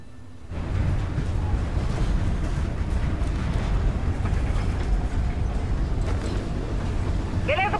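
A train in the video game Gears 5 rumbles along steadily, a dense, loud, continuous roar that swells in after a quiet start and holds for several seconds, with a brief higher rattle near the end.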